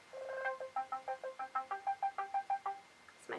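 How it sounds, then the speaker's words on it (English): A mobile phone ringtone plays a quick repeating melody of bright electronic tones, about a dozen evenly spaced notes heard close and alone, followed by a short click. "It's my phone."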